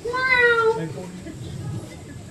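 A cat lets out a single rising-then-falling meow near the start, fairly loud and close, fading into quiet room tone afterward.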